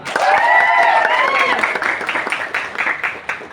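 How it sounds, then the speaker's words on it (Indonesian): An audience at an Indonesian school gathering claps loudly, with voices shouting and cheering over the applause before the clapping thins out and fades. "Tepuk tangan dulu dong"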